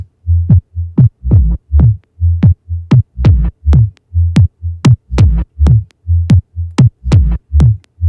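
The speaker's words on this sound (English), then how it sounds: "essentially it was just a percussion loop that I got off a Splice" A percussion loop from a sample library, EQ'd with an EQ plug-in, plays alone: steady repeated kick-like thumps with sharp clicky hits on top, looping evenly throughout.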